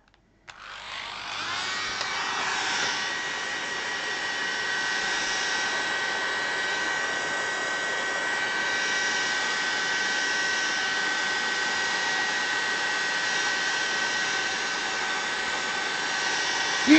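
A hair dryer switches on and blows steadily indoors, a loud, even whooshing whine with a constant motor hum that holds unchanged for many seconds before cutting off.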